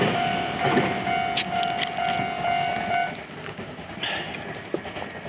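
A train passes by in Japan, heard from a cyclist's position beside the line: a steady rumbling wash of wheels on rails with a sustained tonal whine and a few sharp clicks, moderately loud, with no voices.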